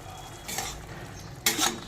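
A spoon scrapes and stirs a watery spice paste of cumin, coriander, chilli, turmeric, salt and ginger in a pan for tangra fish curry, two brief swishing strokes over a low simmer.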